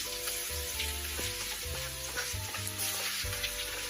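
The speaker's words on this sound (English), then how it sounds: "Hopefully my oil's not too hot, so it should be sizzling like that." Steady close sizzling of garlic frying in hot oil, a dense crackle throughout, with a faint tonal hum underneath and no talking.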